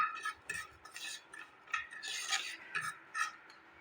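Ground spices, red chili, cumin and turmeric, stirred while warming in a kadai, with faint, quick scraping strokes and light clicks of the spoon against the metal repeating in an uneven rhythm, quiet and close.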